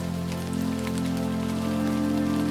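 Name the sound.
spring rain falling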